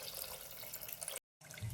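Hot water pours from a vessel into a pressure cooker of measured rice and lentils for masoor pulao, a steady close splashing stream that breaks off briefly and then resumes.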